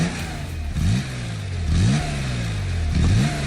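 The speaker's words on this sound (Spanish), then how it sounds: "Vamos a escuchar el sonido del motor de un Porsche que hizo historia." A classic Porsche 911 Carrera engine revs three times, each blip rising sharply in pitch and falling back to idle, loud and close with a rasping tone.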